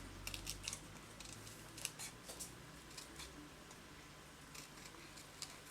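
Scissors snipping around heat-embossed mirror card for a paper flower craft, very faint, quick cutting clicks at an irregular pace over a quiet background hum.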